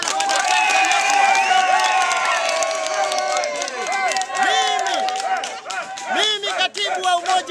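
A crowd at a CCM youth wing gathering in Ilemela cheers and shouts with scattered clapping: loud, sustained voices rising and falling in a busy, close wash of crowd noise.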